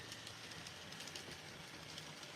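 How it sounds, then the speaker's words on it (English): A model London Underground train runs past on a layout, giving a steady close rattling clatter of wheels on track with a faint hiss, continuous and alone. "There's the train."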